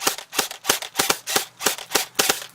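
A gun on full auto fires at an NES cartridge in a rapid string of sharp, loud cracking shots, about nine bursts in under three seconds, each snapping on and decaying fast, with no voices.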